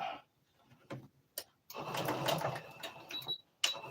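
A sewing machine back stitches a quarter-inch seam on a twist turban hat. A few short bursts of stitching lead into a longer steady whir, then a brief final burst, all close up.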